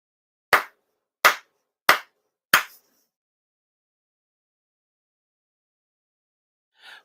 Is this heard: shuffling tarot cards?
no